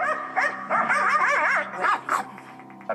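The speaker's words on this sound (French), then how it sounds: "César Millan va rééduquer Gadget, un chien au comportement très problématique." A dog yelps and whines in quick, pitched bursts, close by, with a couple of short pauses between the outbursts.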